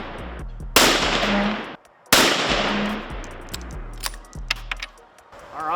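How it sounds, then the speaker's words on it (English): Three sharp, loud rifle shots fired one after another during the break-in of a new rifle at the range, each a hard crack with a short decaying tail. "I'm gonna fire 3 shots here"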